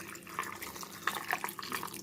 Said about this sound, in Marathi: पूर्ण असे भिजतील असं एवढं पाणी ठेवायचं